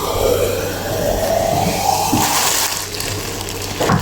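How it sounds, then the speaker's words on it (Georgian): Water poured out in a steady gushing splash, a continuous rushing flow that shifts in tone as it goes, fairly close with no talking. "ერთ წამით ახლა წყალი შევასხა."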